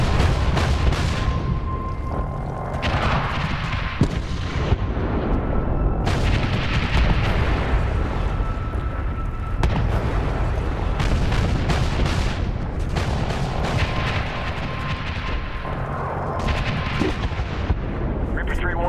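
Heavy airstrike explosions pound a marked target in Medal of Honor, a series of deep, loud booms and rumbling blasts spread over the stretch, with radio chatter from soldiers between impacts.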